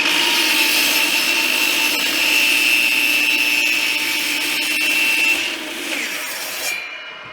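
A power saw cuts through pieces of wood in a workshop, a loud, close, steady whine lasting about five seconds before the blade slows and winds down.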